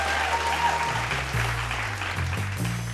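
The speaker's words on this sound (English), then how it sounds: "ladies and gentlemen, another round of applause for Joseph Dow." Audience applause as a contestant leaves the stage at a televised vocal competition, brisk and sustained clapping with low musical notes starting underneath.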